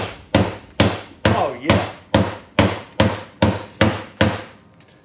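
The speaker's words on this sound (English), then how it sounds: "This is my, can't remember how much it weighs, hand sledge." Heavy hand sledgehammer pounding on sheet-metal truck fenders, about ten loud, evenly spaced ringing blows in steady rhythm, each with a short metallic decay, close up; a voice briefly speaks.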